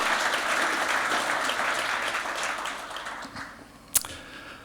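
Sustained audience applause at a Slovenian wine queen coronation ceremony in Radenci, steady and full for several seconds before thinning out, with a single sharp clap near the end.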